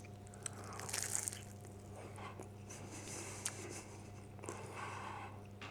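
A crunchy homemade sausage roll being bitten and chewed close to the microphone, with a few crisp crunches of pastry over a low steady background hum, with no talking.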